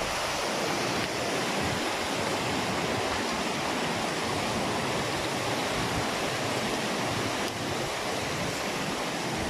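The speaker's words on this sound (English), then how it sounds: "Hot springs flowing right here on the ground." Steady rushing hot spring water flows without pause in the Wallibou River, a dense broadband wash like a fast stream close by, with no voices.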